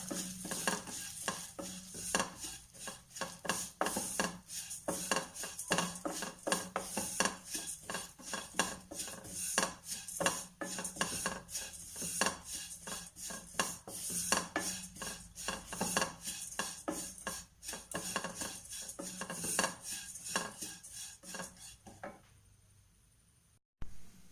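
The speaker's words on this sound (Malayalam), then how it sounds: "നെയ്യ് ചൂടാവുമ്പോൾ അതിലേക്ക് നമ്മൾ എടുത്തു വച്ചിരിക്കുന്ന ഓട്സ് ഇട്ട് അതൊന്ന് വറുത്തെടുക്കുക." Oats roasting in ghee in a pan, stirred with a utensil in a fast continuous rhythm of scraping strokes over a soft sizzle, stopping near the end.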